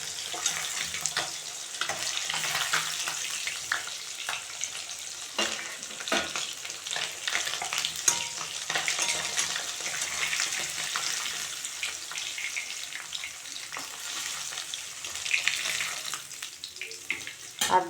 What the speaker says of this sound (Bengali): আর দুটো ভেজে নিচ্ছি।